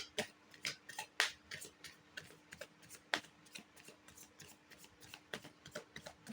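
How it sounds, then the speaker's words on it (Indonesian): Tarot cards are shuffled by hand in a quiet room, a rapid series of crisp riffling flicks and soft slaps repeating irregularly throughout, close and alone. "mengacak kartunya."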